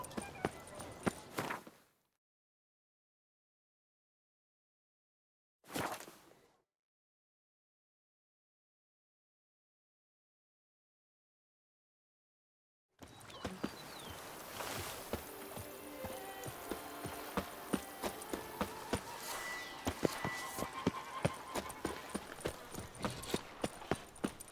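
A horse galloping in The Witcher 3, loud rapid hoofbeats that begin after two short bursts separated by long stretches of silence and then continue steadily to the end.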